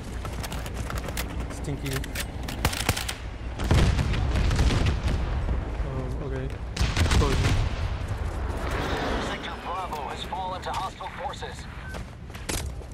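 Video game gunfire crackles in bursts and single reports, with two louder booming volleys standing out, mixed under excited talking from players throughout.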